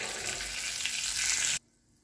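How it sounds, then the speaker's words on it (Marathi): Cumin seeds hit hot oil for a dal tadka, giving a loud, steady frying sizzle for about a second and a half before it cuts off abruptly into near silence. "जिऱ्याची फोडणी द्यायची."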